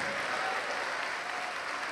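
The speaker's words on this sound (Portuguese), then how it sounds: "Vamos aplaudir mais ao Senhor Jesus." A church congregation claps in a steady, even wash of applause, moderately quiet and continuous through the short stretch with no voices standing out.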